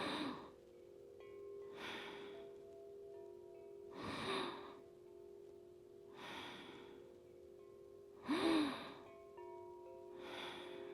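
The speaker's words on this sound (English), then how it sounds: "Inhale. Exhale. Inhale. Exhale." Slow, deliberate breaths in and out during a calming breathwork exercise repeat at a steady rhythm about every two seconds. The breathing is soft and close over a faint steady hum, with a couple of louder sharp inhales.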